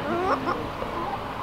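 A hen at a farm sanctuary gives a few soft, close clucks in quick succession, briefly and alone.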